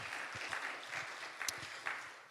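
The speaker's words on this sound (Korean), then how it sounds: "수고하신 분들에게 박수로 수고하셨습니다" A church congregation claps for the volunteers of a healing camp during a Sunday evening service. A short burst of moderate applause rises with a few sharper claps.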